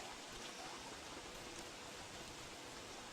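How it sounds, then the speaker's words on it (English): Steady rainfall in the video game Don't Starve, a constant even hiss of rain filling the whole short stretch with no breaks, moderately quiet and heard alone. "he's getting very upset that it is so rainy"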